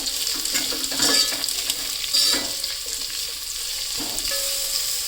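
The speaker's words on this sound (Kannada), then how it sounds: "ಈ ಆನಿಯನ್ ಎಲ್ಲ ಚೆನ್ನಾಗಿ ಫ್ರೈ ಮಾಡ್ಕೊಳ್ಳೋಣ" Onions frying in a pan for chicken dum biryani, a steady close sizzle broken by a few scraping stir strokes of a spoon, with no one talking.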